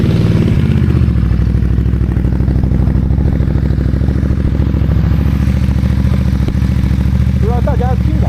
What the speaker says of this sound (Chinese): 来听一下它的排气声。